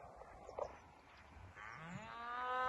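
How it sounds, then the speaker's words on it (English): Cows moo close to a tent on Dartmoor near Powder Mills at dusk: a short low call early on, then a long, loud, drawn-out moo that rises and swells toward the end, with no talking. "The cows will not shut up."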